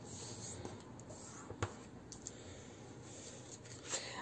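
A paper Christmas card is folded into alternating accordion pleats: quiet, soft scraping and crinkling of paper, with a few slightly louder creases, close by in a hushed room.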